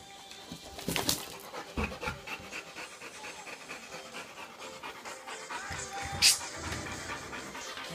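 A dog pants steadily at close range, quick rhythmic breaths running throughout, with a couple of brief louder bursts of noise.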